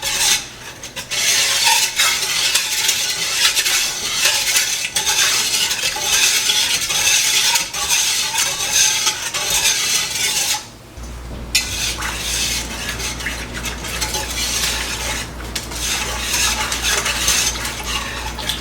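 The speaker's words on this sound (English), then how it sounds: "So we want to keep stirring this until it dissolves." Continuous scraping and swishing of a utensil stirring cornstarch into thickening peach pie sauce in a pot, steady rhythmic strokes close by with a brief pause partway through, no talk.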